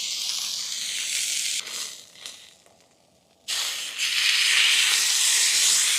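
A steak dropped onto a hot pan sizzles with a loud, steady hiss that dips and briefly quiets midway, then surges back stronger and continues, with no talking.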